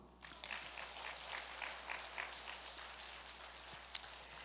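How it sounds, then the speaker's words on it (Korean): A congregation at a Catholic retreat lecture claps together in a brief, fairly faint burst of applause with a soft, dense patter and one sharp click near the end. "박수"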